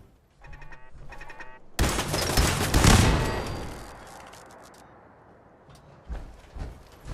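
Fallout 4 turret fire erupts as a loud, dense burst of rapid shots with a booming impact, decaying into a rumbling tail, preceded and followed by shorter tonal game noises and a couple of later thumps.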